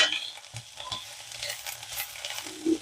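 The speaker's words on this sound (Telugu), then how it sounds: "ఇప్పుడు మంచిగా అంతా కలిపేసుకోవాలి." Quiet stirring of bitter gourd fry in a pan, soft scraping strokes and a light sizzle in a few short irregular movements, close and low in level with no talking.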